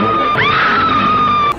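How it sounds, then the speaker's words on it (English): A woman screams in a King Kong film scene, a sustained, loud high-pitched wail that rises and holds steady for over a second, with no talk over it. "all she does around Kong is scream"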